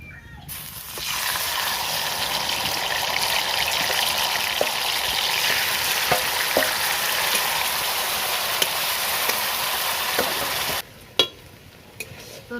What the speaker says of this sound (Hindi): फुलकपी खांजो लगे